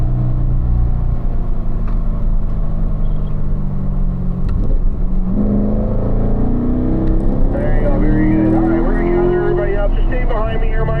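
A Corvette on a race track during a performance driving school graduation lap, its engine rumbling steadily near and loud under light acceleration downhill, with the pitch rising toward the end as a voice talks over it.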